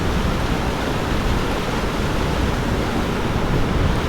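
Water pours heavily at 33 Waterfalls in Mankulam, Kerala, a dense, loud, steady rushing roar with no breaks and no voices.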